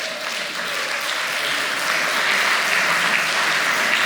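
An audience at an academic survey discussion claps steadily and fairly loudly for a few seconds, a dense wash of applause with no voices over it.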